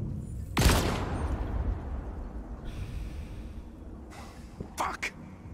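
A single sharp gunshot rings out in the game Detroit: Become Human, loud and close, followed by a decaying tail and a couple of fainter later hits.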